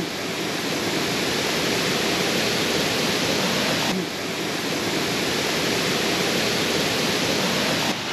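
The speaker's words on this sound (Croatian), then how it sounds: "Evo, iznad malog vodopada." Steady broadband rush of water just above a small waterfall in the Janjske Otoke nature area near Šipovo, a close, loud, continuous pour with no talk.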